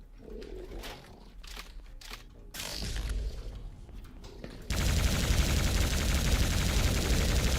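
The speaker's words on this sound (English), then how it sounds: "Oh, homing missiles." Homing missiles fire in a Doom map, with sharp repeated shots and whooshes giving way to a dense, loud, continuous roar of projectiles and blasts.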